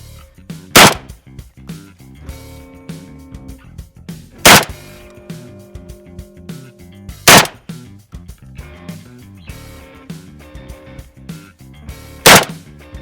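Four loud, sharp gunshots spaced a few seconds apart, each a separate slug round fired offhand at a range, with quieter mechanical sounds between shots.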